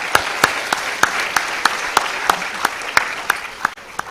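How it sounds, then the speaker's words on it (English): Audience applause for the panelists at a global sustainable food systems conference session, a thin, fairly distant clapping with a few sharper individual claps standing out at a regular pace. "let's give a round of applause for our panelists"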